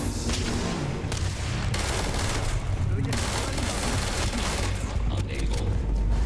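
Rapid, dense gunfire from a weapon in the video game Starfield, used against robots on max difficulty, as a loud continuous barrage of overlapping shots and booms with no pauses.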